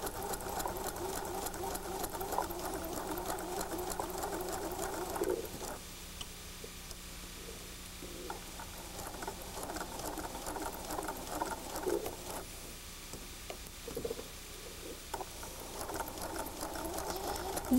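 A sewing machine stitches log cabin lover's knot quilt seams, its needle patter steady and rhythmic, pausing briefly and restarting as the fabric is guided with a stiletto.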